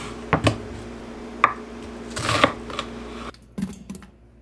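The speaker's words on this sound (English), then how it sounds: "First, I chopped up an onion." A knife chops an onion on a cutting board, a few sparse, sharp taps spaced irregularly, close and fairly quiet, with a short pause before the last couple of cuts.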